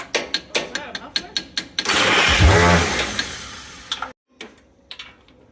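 A Mighty Midget Mobilift forklift engine, on a weak battery, clicks through a series of sharp ticks, then cranks loudly and unevenly for about two seconds before stopping abruptly, followed by a few faint clicks.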